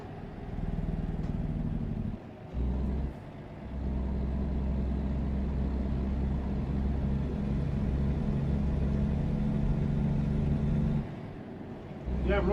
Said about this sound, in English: I'm really liking the sound of this truck